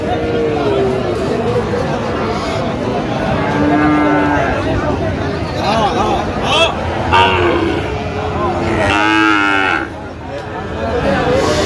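Sahiwal bull calves low and moo repeatedly amid a busy crowd at a cattle market in Chittagong, with people chattering all around in a noisy outdoor setting.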